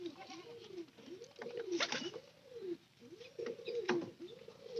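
A pigeon coos nearby in repeated soft, rounded calls, with a few faint rustles and clicks between them.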